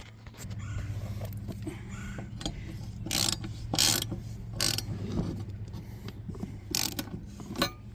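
A wrench tightens the blade bolt on a lawn mower, giving off a run of ratcheting clicks and metallic scrapes, with several sharp clanks and bursts of friction standing out up close.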